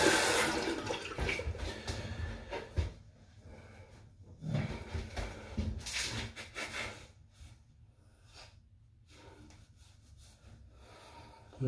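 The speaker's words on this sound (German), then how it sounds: "So, jetzt ein bisschen kaltes Wasser und danach ein schönes Aftershave." Cold tap water runs into a sink after a shave, coming in several splashing bursts separated by quieter pauses.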